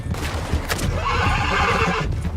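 Horse in Red Dead Redemption 2 giving a loud, close whinny that rises and trails off, with hoof clops and game ambience around it.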